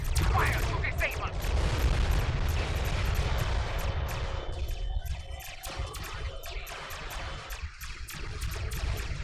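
Starship weapons fire in the Star Trek Online space-combat game: a dense, rumbling barrage of rapid blasts and booms, continuous and loud, with voices talking over it.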